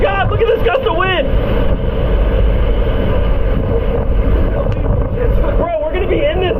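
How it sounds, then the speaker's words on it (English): Strong hurricane wind gusts during Hurricane Ian roar and buffet the microphone loudly and continuously, with excited voices shouting over the storm noise. "Look at this gust of wind!"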